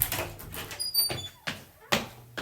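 A door opening in a dark building, with creaky thumps and scraping in a few short bursts, closely miked and mixed with other movement noises.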